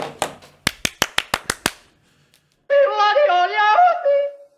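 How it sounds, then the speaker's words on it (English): About eight sharp hand claps ring out alone in a quick, slightly uneven rhythm, close and crisp, followed by a pause and then someone talking. "So I'm going to clap."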